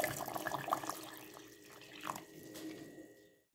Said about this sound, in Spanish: vamos a agregar un poco de agua para poder licuar